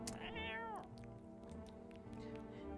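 A cat in the game No I'm Not a Human gives one clear, drawn-out meow that rises and then falls, close and fairly quiet, followed by faint softer sounds.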